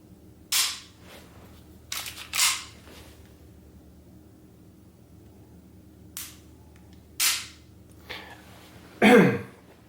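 Dry-fire trigger clicks from a Silencerco Maxim 9 pistol, several sharp separate snaps spaced a few seconds apart in a quiet room, with the last one louder and followed by a brief rattle.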